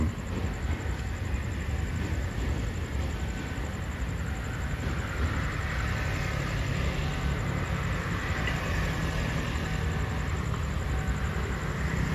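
Express train number 25 pulls into Samsen station in Thailand, a steady continuous rumble of the arriving train and its rolling stock, moderately loud and unbroken, with no voices over it.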